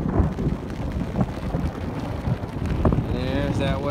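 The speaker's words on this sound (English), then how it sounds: "I can't face that way because of the rain" Rain and strong wind buffet a bridge overlook at Kinzua Bridge State Park, giving a loud, continuous roar with rough gusting against the microphone. Voices can be heard faintly beneath it.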